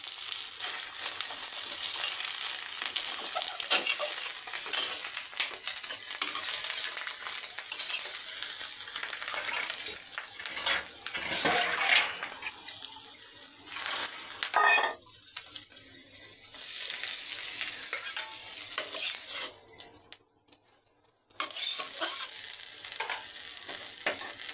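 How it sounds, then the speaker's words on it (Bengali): An egg frying in oil in a pan, giving a steady, close, bright sizzle with occasional stirring scrapes, briefly dropping out near the end. "তো এই যে আমি ডিমটা ভেজে নিচ্ছি"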